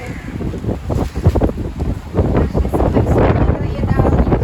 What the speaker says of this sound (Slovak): Slabšie vietor.